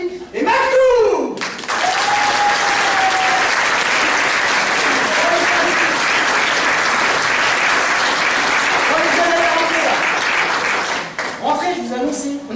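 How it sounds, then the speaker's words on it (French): A live comedy-show audience bursts into loud, sustained applause and cheering that lasts several seconds, with a voice calling out briefly at the start and end. "je vous demande d'applaudir très fortement et chaleureusement Christo, Priscilla"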